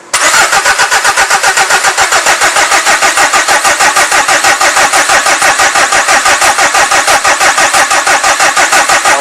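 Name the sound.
engine cranking during common rail pressure test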